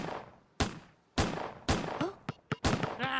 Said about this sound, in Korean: 첫 번째 미션, 사격 실력을 보여줘요